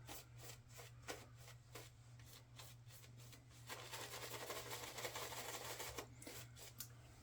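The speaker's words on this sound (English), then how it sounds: "and then I'm going to work this lather" Glycerin shaving soap being worked into lather with a brush, close and quiet: rhythmic swishing strokes at first, then a denser, continuous wet churning, with no talking.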